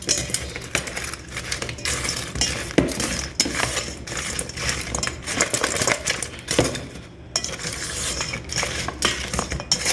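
Chicken wings tossed in garlic parmesan sauce, shaken and stirred in a container, giving a steady run of rattling, clattering knocks and scrapes with occasional sharper taps, close and fairly loud with no talking.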